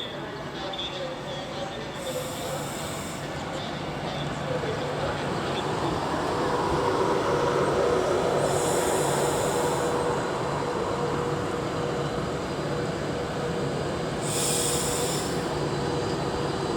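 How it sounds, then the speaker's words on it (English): Avanti West Coast train running into Stafford station on the West Coast Main Line, a steady broadband rumble swelling gradually toward the middle and holding loud, with faint high squeals recurring and no talk. "1847 Avanti West Coast service to from London Euston to Edinburgh. Coming in about"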